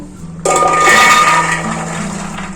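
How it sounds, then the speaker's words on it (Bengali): A kitchen mixer grinder blending green peas with a piece of ginger and green chillies, starting abruptly with a loud, steady whirring grind that holds for a couple of seconds and then eases slightly. "এই মটরশুঁটিটা মিক্সিতে মেটে নেব"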